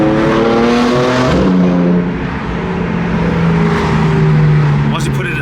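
A BMW M4 driving along with a steady loud engine and exhaust drone and road roar, pitch shifting as it changes speed, with a few faint crackles near the end.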